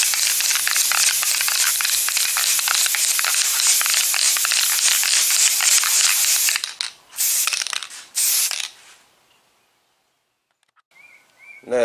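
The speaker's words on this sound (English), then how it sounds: "Now it's time to level it on off by wet sanding." Fiberglass on a 1988 Monte Carlo body is wet sanded with 400 grit on a block, producing fast, rhythmic, raspy scrubbing strokes up close, then a few short passes before it falls quiet.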